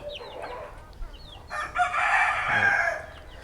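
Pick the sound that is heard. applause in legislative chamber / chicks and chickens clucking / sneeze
chicks and chickens clucking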